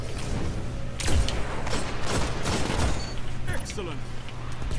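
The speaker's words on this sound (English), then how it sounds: "shoot him once with a sniper and then switch to a different weapon and finish him" Sniper rifle shots fired in the Destiny: Rise of Iron shooter, with a few sharp loud cracks among continuous game noise and other weapon fire, while a player talks over them.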